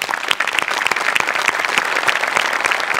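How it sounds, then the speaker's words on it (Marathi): Audience at a Marathi comedy show breaks into hearty applause, a dense, continuous patter of many hands clapping close and loud for the full few seconds. "त्यांच्यासाठी एकदा जोरदार टाळ्या."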